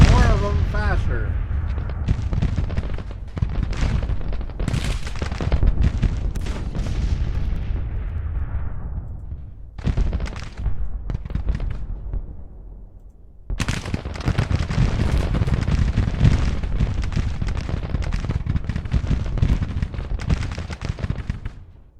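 Battle din from the Grand Tactician Civil War strategy game: continuous rolling musket volleys and booming artillery fire, dense and loud, with a brief dip midway before the crackle and thunder resume.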